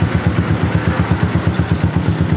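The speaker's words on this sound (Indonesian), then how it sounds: "motor langsung nyala kembali" A Yamaha Jupiter MX motorcycle with a newly replaced starter idles close by, its single-cylinder engine thumping in an even, rapid rhythm of regular pulses throughout.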